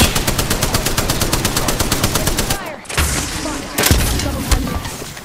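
Rapid automatic gunfire in a shooter video game, a loud continuous stream of shots that breaks briefly near the middle and resumes with heavier bursts and booms.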